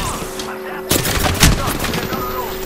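Rapid gunfire in Apex Legends crackles during a squad fight, with a loud burst of shots starting abruptly and continuing as dense, close firing over background game noise.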